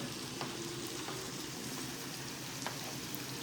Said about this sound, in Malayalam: നല്ല വെളിച്ചെണ്ണ ഒഴിച്ച് അതിൽ വേപ്പലൊക്കെ ഇട്ട് നന്നായി വറുത്തെടുക്കണം